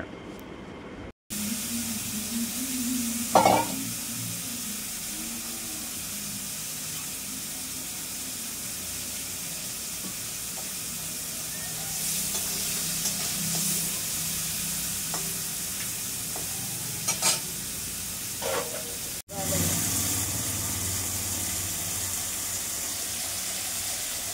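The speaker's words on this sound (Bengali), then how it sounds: "পটল চিংড়ি করার জন্য চিংড়ি মাছগুলো ভেজে নিচ্ছি" Prawns frying in a pan give a steady, close sizzle that runs through the whole stretch, with occasional clinks and stirring scrapes and a brief drop-out near the start and again near the end.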